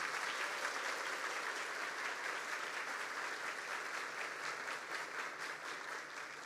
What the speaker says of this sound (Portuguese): Então vamos aplaudir o Senhor, que é esse arquiteto.